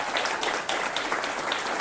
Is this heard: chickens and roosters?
no